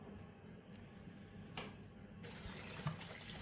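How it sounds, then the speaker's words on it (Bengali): Tap water runs while cut rohu fish is washed, a faint steady rush that grows louder partway through as the flow increases. "এবার মাছগুলো আমি ধুয়ে নিব।"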